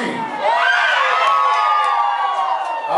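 A party crowd of women at a DJ festival event scream together on cue, a loud, sustained high-pitched shriek lasting a few seconds with overlapping voices.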